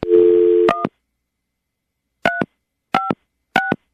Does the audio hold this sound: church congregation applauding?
no